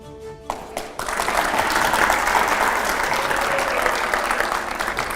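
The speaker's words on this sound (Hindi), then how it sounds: "जोरदार तालियां हो जाए इस बार" A television studio audience at a political talk show bursts into loud, sustained applause after a brief murmur, the clapping rising sharply and staying strong and continuous to the end.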